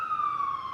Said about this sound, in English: These ambulances are super loud.